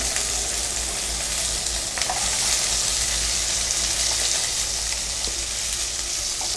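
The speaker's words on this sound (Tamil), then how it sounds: "வெங்காயம் வரமிளகாய் வெங்காயம் பூண்டு இது வந்து நல்லா வதக்கிக்கோங்க" Onion, dried red chili and garlic sautéing in a pan give a loud, steady sizzle throughout, with a few faint stirring scrapes and no talking.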